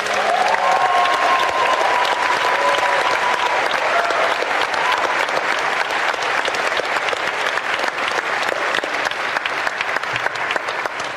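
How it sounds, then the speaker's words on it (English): Sustained applause from a premiere audience, dense and steady throughout, loud and close, with a brief tonal whistle-like sound near the start. "can we have a round of applause for HY?"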